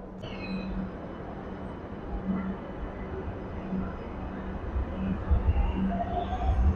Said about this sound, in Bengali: মেট্রো ঢুকে গেছে দেখতে পাচ্ছ